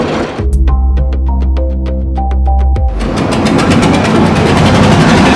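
A river trawler's engine runs loudly in the Sundarbans, first as a steady, throbbing low drone and then giving way to a louder, rougher wash of engine and water noise.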